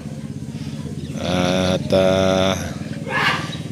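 A motorcycle engine idles and revs close by, a steady low throb rising to a louder rumble for about a second and a half, then fading back, with a brief voice near the end.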